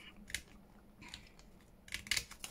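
Scissors snipping through a thin acetate sheet, a few quiet, crisp cuts spaced irregularly with a cluster of snips near the end, heard close and alone.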